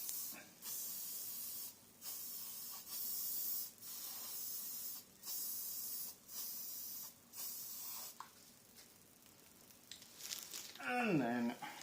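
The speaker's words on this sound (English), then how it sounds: "A little bit more hairspray." Hairspray sprayed in about eight short, even bursts, each a steady hiss lasting roughly a second with brief gaps between, close and fairly loud, used in scenic workshop model making; a few rustles and a squeal follow at the end.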